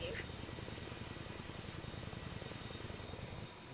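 Steady low rotor throb of a Chinook helicopter from inside the cabin, a continuous loud rumble with fine rhythmic pulsing running the whole time, and voices talking over it.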